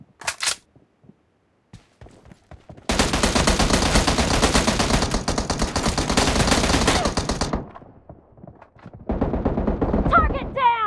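Full-auto M16A4 fire from a team deathmatch video game rattles in two long, loud continuous bursts separated by a quieter pause, with a few brief clicks at the start.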